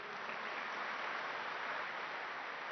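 An audience at a Rajyogini Dadi Janki spiritual talk claps steadily and evenly for a few seconds, a soft, dense patter of many hands heard alone.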